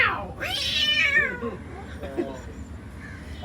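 A man mimics a cat's meow with his voice, giving a drawn-out, rising and falling wail followed by a shorter meow, close by on a houseboat outing in Alappuzha, with background chatter.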